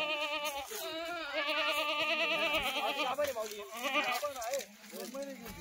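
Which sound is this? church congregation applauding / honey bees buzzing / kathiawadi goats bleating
kathiawadi goats bleating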